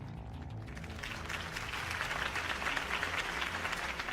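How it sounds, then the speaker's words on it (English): Crowd applause after a mayoral campaign speech in Batman: The Telltale Series, a dense wash of clapping that swells steadily and stays loud across the whole stretch, with no voices over it. "could have heard that applause"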